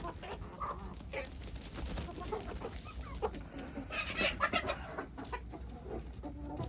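Free-range village hens cluck and chatter on their way to drink water after feeding, a busy flock heard in a steady, noisy outdoor background, no one speaking.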